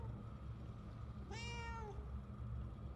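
A cat in the video game Murdered: Soul Suspect gives a single clear meow lasting about half a second, rising then falling, over a quiet low background hum.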